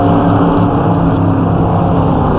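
Racing car engine in Assetto Corsa during an endurance race, a loud steady drone with layered harmonic engine tones running throughout, no talk.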